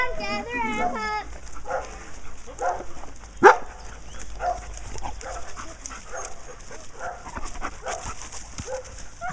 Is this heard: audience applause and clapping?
no